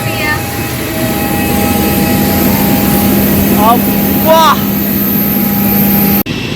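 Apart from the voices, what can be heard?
AirAsia airplane at Langkawi airport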